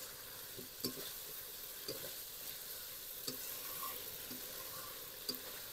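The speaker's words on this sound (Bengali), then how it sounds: "এবার আমি এর মধ্যে পটলগুলো দিয়ে একটু নেড়ে চেড়ে নেব" Pointed gourds are stirred into fried spice paste in a village kitchen, a quiet continuous sizzle broken by several light, evenly spaced utensil taps and scrapes.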